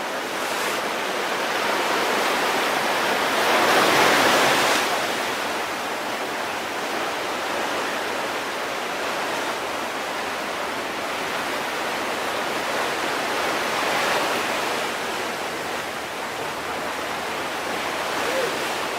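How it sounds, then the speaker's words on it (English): Constant water runs and drips at the Pirate Tower on Victoria Beach, a steady broadband wash of falling water with no breaks, close and fairly loud, with faint surf and wind underneath. "there's constant water dripping down"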